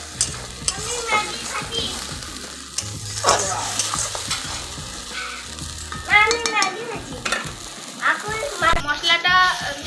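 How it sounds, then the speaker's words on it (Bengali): Tomato with ginger and spices sizzles in a pan for a pomfret fish curry as a spoon stirs and scrapes in bursts, close by, while a person talks over the cooking. "আমি এখন এটি কষিয়ে নেব"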